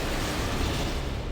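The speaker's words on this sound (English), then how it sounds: "I hear explosions." Loud, dense explosion-like rumbling fills the whole moment, a continuous roar of overlapping blasts from the video game Star Wars: Knights of the Old Republic.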